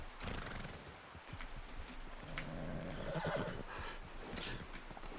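A horse in Red Dead Redemption 2 neighs loudly with repeated clip-clopping hooves, with busy game ambience behind it and no voices.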